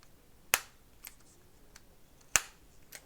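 Two sharp plastic clicks from the creaking clasps of a Tronsmart Onyx Ace Pro speaker, about two seconds apart, close by, with a few fainter ticks in between and no talking.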